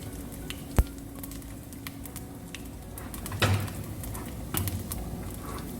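Asafoetida tempering in hot oil for a green peas curry gives a soft, steady sizzle, close by, with a sharp knock early on and a couple of brief clattery scrapes later.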